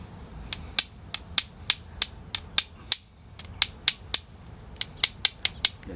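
An antler billet strikes flint in a series of sharp, bright clicks, about twenty taps at an irregular pace, close and clear with no talk.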